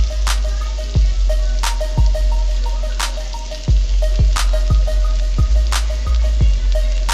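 Tomatoes and zucchini sizzle steadily in a hot pan, a constant close frying hiss punctuated by regular sharp clicks and taps roughly every second.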